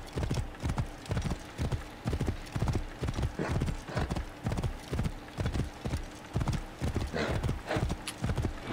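Horse hooves clip-clop in a steady trotting rhythm in Assassin's Creed Origins, close and clear, with a horse's whinny near the end and faint voices under the hoofbeats.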